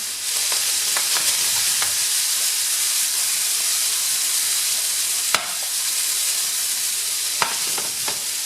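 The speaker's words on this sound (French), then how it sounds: "On les laisse saisir bien sûr une face, on les retourne." Potatoes sear in a hot pan, giving a continuous bright sizzle and hiss with a few sharp clicks and scrapes as they are moved, close and steady, no voices.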